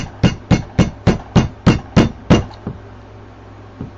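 Small hammer taps out eight sharp, evenly spaced strikes in quick succession, loud and close, followed by a lone lighter knock after a pause.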